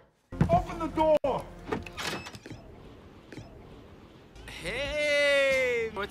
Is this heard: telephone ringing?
no